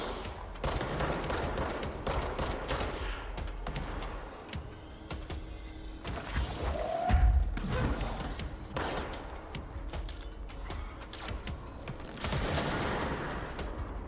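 Gunfire in the video game Control, repeated bursts of sharp shots and rapid volleys spread across the whole stretch, fairly close with some heavier thuds in between.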